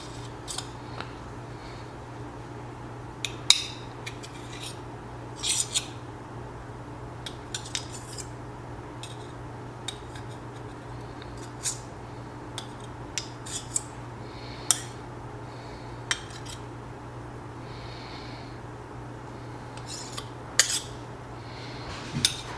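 A knife clinks and scrapes against a plate or board while cutting a chicken and rice mixture, sparse light taps and clicks scattered over a steady low hum.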